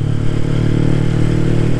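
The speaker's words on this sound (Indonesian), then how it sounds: "belakang ada motor" A motorcycle rides close behind on the road, its loud, steady mid-pitched engine drone running continuously without a break.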